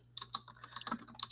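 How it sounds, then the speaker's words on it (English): Typing on a computer keyboard: a quick, uneven run of light keystrokes, fairly faint and close, with no voices. "I'm still typing my last like 2 words"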